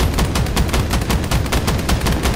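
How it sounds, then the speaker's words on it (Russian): Rapid automatic gunfire from a combat vehicle's weapons in the Crossout video game, a dense, continuous burst of loud, fast repeated shots with no pause. "подавляю вражескую технику огнем"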